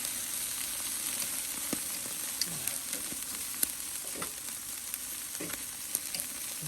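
Salt and pepper chicken wings sizzle on a charcoal-fired can grill, a steady, fairly quiet frying hiss scattered with small crackles and pops.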